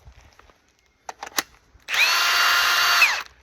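A few faint clicks and knocks, then a Milwaukee 18-volt cordless power tool whirs on at close range for just over a second, its motor pitch rising and falling before stopping.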